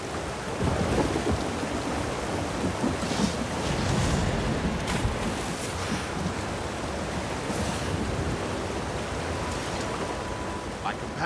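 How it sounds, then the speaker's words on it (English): A waterfall in the video game Elder Scrolls Online gives a steady, dense rushing roar that stays even and unbroken throughout, with no distinct events, like heavy water pouring continuously nearby. "Here, behind the waterfall."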